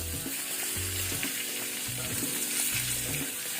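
Curry leaves, dry red chillies and urad dal crackle in hot tempering oil for curd rice, a dense, even sizzle up close across the short stretch, with low background hum and no voices.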